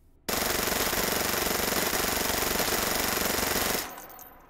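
American 90 submachine gun fitted with a muzzle brake, firing in H3VR, one long unbroken full-auto burst of rapid, dense, loud shots that stops abruptly and leaves a short fading tail.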